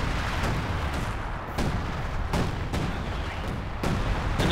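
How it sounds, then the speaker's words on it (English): Artillery strikes in Company of Heroes 2, a series of five or six heavy booming impacts at irregular intervals over a dense battle rumble, fairly loud, with no talking. "Awful lot of artillery here."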